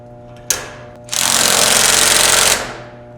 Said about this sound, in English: As you can see, it gripped into that bolt, no problem.